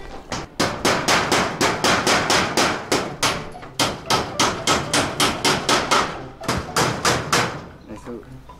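Rapid, loud hammer blows ring out in a steady rhythm, roughly two or three strikes per second, with a brief pause partway through.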